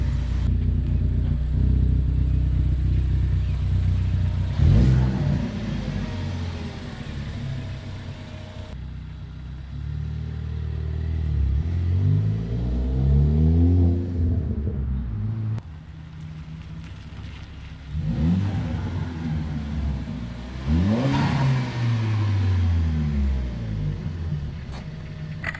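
A 2013 Ford Focus ST with an MBRP aftermarket exhaust revs repeatedly, each rise and fall in engine pitch ending in small exhaust pops and crackles, loud and close, with a steady rumbling idle between revs.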